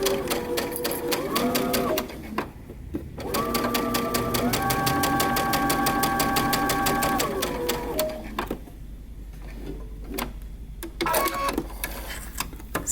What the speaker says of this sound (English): we're going to stitch down our dart on both of our sleeves